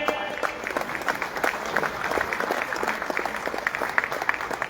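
An audience at a general assembly meeting claps in sustained applause to welcome and congratulate team Bardoli, a steady dense patter of many hands with a faint crowd murmur beneath.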